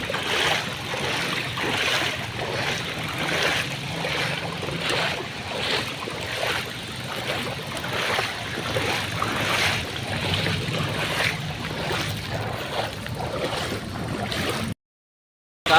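Someone wades through knee-deep flood water on a city street in front of a Metro Bank during Typhoon Carina in Mandaluyong, with steady rhythmic splashes and sloshing from each stride, close and continuous, then a brief silence at the end.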